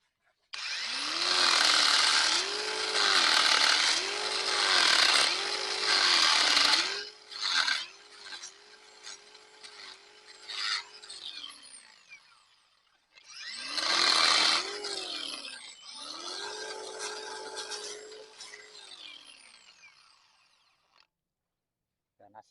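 An electric pine resin tapping machine, a homemade rural invention, runs in loud rising-and-falling bursts of motor whine and cutting against pine bark, pausing briefly before a second strong burst and a fading tail.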